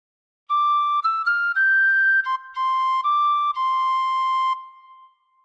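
A tin whistle plays a phrase of Hark the Herald Angels Sing, clear pure notes in a steady melodic line, close and solo with no accompaniment, ending in a short fade.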